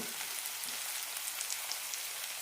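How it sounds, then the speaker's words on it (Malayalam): Tomatoes sauté in a pan for brinjal masala fry, giving a steady, dense sizzling hiss with no breaks and no voices. "തക്കാളി ഇട്ട് ഒന്ന് രണ്ട് മിനിറ്റ് വഴറ്റിയെടുക്കാം"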